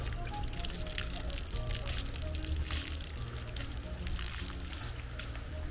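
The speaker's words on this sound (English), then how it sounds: "She just water it." Water poured by hand onto newly planted yam vines makes a continuous splashing trickle close by, with faint outdoor noise around it.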